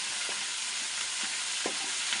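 Leafy greens (soppu) tossed into a hot frying pan for a stem-and-greens bas saaru, giving a steady broadband sizzle with several soft stirring scrapes spaced through it; no voices.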